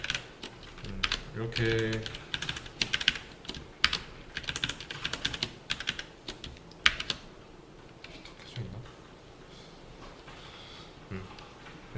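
Computer keyboard typing while writing code for a double-pointer exercise: bursts of close, quick key clicks with pauses, and a voice speaking briefly at times.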